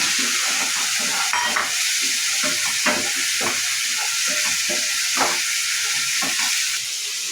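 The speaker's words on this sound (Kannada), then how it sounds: "ಟೊಮೆಟೊ ಈಗ ಮೆತ್ತಗಾಗಿದೆ ಅವರೆಕಾಳು ಹಾಕ್ತಿದ್ದೀನಿ" Field beans (avarekalu) tossed into softened tomato in a pan for a soya chunk gravy, a continuous hissing sizzle with repeated scraping stirs at an uneven rhythm, close by.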